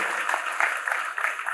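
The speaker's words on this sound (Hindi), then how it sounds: "उनके लिए हम चाहते जोरदार ताली बजा दी जाए" An audience at a school Saraswati Puja and Basant Panchami celebration applauds in a dense, continuous patter of many hands, moderately loud throughout.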